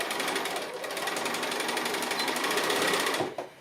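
A sewing machine back-stitching a fabric pocket page, running with a fast, steady mechanical rattle for about three seconds before abruptly stopping with a small clunk.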